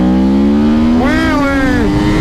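A motorcycle accelerates hard in a quick pull, its engine loud and close, rising steadily in pitch with a sharp upward sweep partway through.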